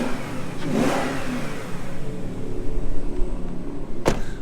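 A V8 BMW engine revs up and settles into a steady rumbling idle, close by and fairly loud, with a brief sharp noise near the end and no talking.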